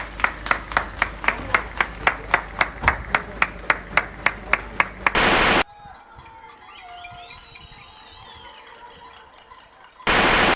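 A crowd claps at 8 pm to applaud hospital staff, a steady rhythm of loud, sharp, evenly spaced claps, then a quiet stretch with a faint voice before a short burst of noise returns.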